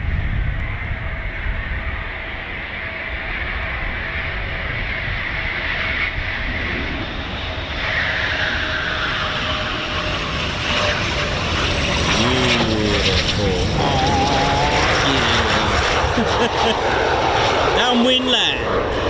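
A Eurofighter Typhoon FGR4 fighter jet on landing approach at RAF Coningsby gives a broad, distant roar that slowly builds and shifts in pitch, with voices faintly present.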